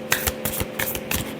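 Tarot cards are shuffled in a few quick, crisp riffling bursts, close and fairly quiet, with no talking.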